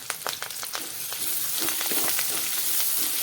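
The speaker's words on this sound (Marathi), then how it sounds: "आता गोल्डन कलरचा कांदा आपण या ठिकाणी परतून घेणार आहोत बघू शकता आपला कांदा फ्राय होत आलेला आहे" Onion and curry leaves fry in a pan for paneer masala, with a soft, steady sizzle and a few light stirring clicks near the start, no voices.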